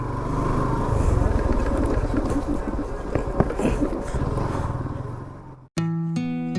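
A motorcycle rides a rough village road near Pirganj, Rangpur, its engine and wind noise a steady loud rumble for about five and a half seconds before abruptly cutting to a brief tonal sound.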